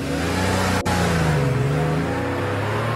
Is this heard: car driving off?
yes